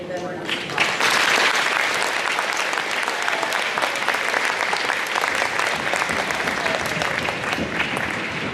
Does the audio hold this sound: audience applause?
yes